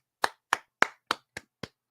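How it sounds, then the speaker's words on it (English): Six slow, evenly spaced single hand claps, a deliberate golf clap close to the mic, each crisp and isolated with brief silence between, ending as a voice begins. "golf clap"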